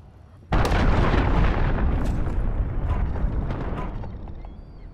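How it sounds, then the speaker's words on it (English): Cruise missile strike in Call of Duty Modern Warfare: a sudden massive explosion erupts after a brief quiet moment, then a dense rumbling roar with scattered secondary blasts that slowly fades, loud and close with no voices. "Cruise missile away."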